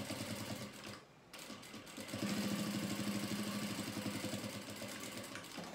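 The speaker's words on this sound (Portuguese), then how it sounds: "E vai costurando." Sewing machine running steadily as it stitches down a topstitched seam on a lined piece, a close mechanical whir with a brief pause near the start, then continuous rapid stitching.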